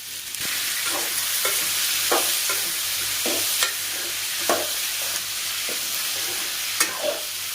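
Ivy gourd sautéing in oil in a pan, stirred at a steady pace, with a constant bright sizzle and a sharp scrape or clack of the spoon about every second, close and alone.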